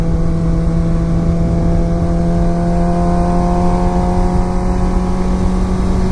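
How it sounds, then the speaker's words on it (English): A stock exhaust on a 2016 Suzuki GSX-R600 supersport motorcycle while riding at a steady speed-limit pace, a close, loud, continuous engine drone with a strong steady tone and no talking. "Is this really a stock exhaust?"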